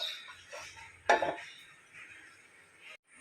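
A metal lid is set on a pan of Kerala-style attu vala fish curry, giving one sharp, close clank amid softer handling clinks and quiet room noise.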